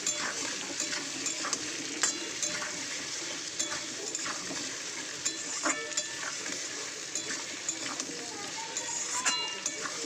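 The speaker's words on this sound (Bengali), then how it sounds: "আলুর সঙ্গে পেঁয়াজটা একটু ভেজে নিই" Onion and potato fry in a pan while being stirred, a soft sizzle broken by repeated scraping clicks of the spoon, with someone talking throughout.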